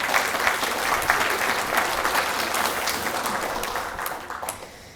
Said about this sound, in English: So if we could just have a big round of applause for Tia for making this happen.